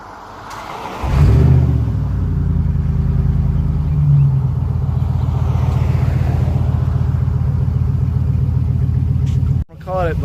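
A Dodge Dakota's 4.7 V8 running with straight-pipe exhaust cranks and fires, then settles into a loud, deep, throbbing idle for several seconds before abruptly cutting off.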